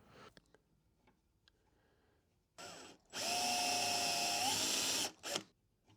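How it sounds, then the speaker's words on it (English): A power drill bores a bolt hole in a walnut kettle handle, with a short burst, a pause, then a loud sustained whine whose pitch shifts, ending in a brief final rev. "I do have to be a bit careful how deep I drill"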